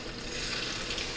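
Meatballs sauté in oil in a non-stick pan with a steady, close hiss and crackle of frying throughout a short stretch, heard alone without talk.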